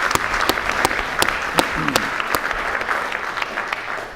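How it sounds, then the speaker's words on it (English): A conference audience claps for two presenters at a portfolio pitch forum session, a full, even round of applause with a few sharp individual claps standing out and faint voices beneath. "A round of applause to both Michael and Greg"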